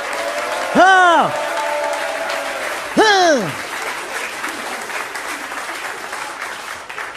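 A stand-up comedy audience applauds as a steady, moderate bed of clapping, while a voice cuts over it twice with short, drawn-out exclamations.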